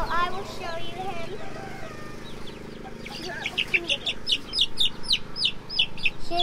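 A young Polish Frizzle chicken clucks and peeps in a rapid series of short chirping calls, growing more frequent toward the end, while a person talks nearby.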